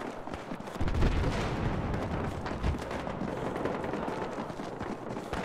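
Gunfire rattles continuously through a Battlefield Hardline Team Deathmatch on the Derailed map, dense overlapping shots and booms forming a loud, busy backdrop with a heavier burst near the start.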